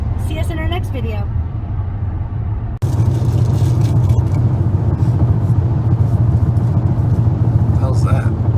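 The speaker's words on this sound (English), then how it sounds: "Road noise." Road noise inside a moving car: a constant low rumble and tire hum that fills the cabin, briefly dipping before swelling louder, with people chatting faintly over it.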